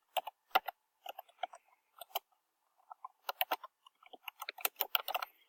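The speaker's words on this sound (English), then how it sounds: "she will type in the date" Light, quick keystrokes on a computer keyboard as a date is entered, falling in short irregular bursts of clicks with brief pauses between them, close and quiet in an otherwise silent room.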